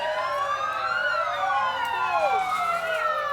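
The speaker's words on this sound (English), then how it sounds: "Not sure how well you can hear us over those sirens" Emergency vehicle sirens at a 2021 Labor Day parade, several wailing and yelping tones overlapping and sweeping up and down, loud and close, with a steady rumble of vehicles beneath.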